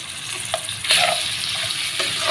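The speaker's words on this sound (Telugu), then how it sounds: "ఇప్పుడైతే మనమైతే ఉడకబెట్టుకున్న చికెన్ ముక్కలు అయితే వేసుకున్నాము" Boiled chicken pieces frying in a pan, with a steady close hiss of oil broken by a few short clinks and stirring sounds, no voices.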